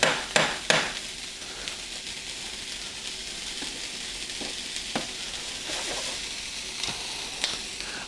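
Pork sausage sautéing in a pan, a quiet steady sizzle punctuated by a few sharp knocks and clacks of a utensil against the pan, no talking.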